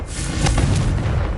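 A Confringo blasting spell going off in the Hogwarts Legacy video game, a short, loud booming explosion with a deep rumbling tail, heard alone and close.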